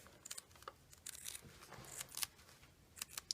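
Scissors cutting through rubber-backed bath mat material to make non-skid slipper soles, a series of faint, close snips and crinkly rustles in uneven bursts, with no voices.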